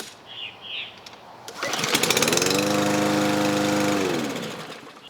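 Gas lawn mower restarting after running over an object, with a sharp pull-start, then the engine catching and settling into a steady, loud, close drone that fades slightly at the end, with birds chirping faintly before it starts.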